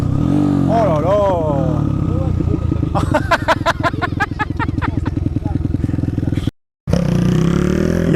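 A YCF pit bike fitted with a 212 engine kit buzzes past nearby, its revs rising and falling in rapid staccato bursts, while excited voices talk over it and the engine drone continues underneath.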